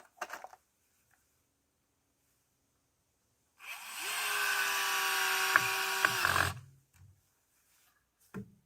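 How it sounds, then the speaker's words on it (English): A power drill drives a single screw into a wooden planter in one sustained, loud, close whirring burst of about three seconds, with brief handling knocks before and after. "I think I'm just gonna put 1 screw here."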